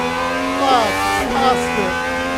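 A Gordon Murray GMA T.50s with a V12 engine driving on a track, its engine note rising and falling through a loud, high-pitched rev with rapidly shifting harmonics, heard up close and continuously.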